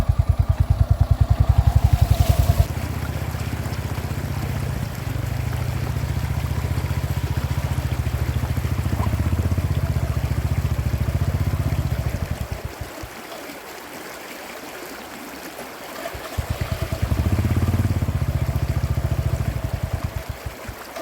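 A motorcycle engine rumbles loudly while river water rushes and splashes around it, the engine dropping away midway before revving back up near the end.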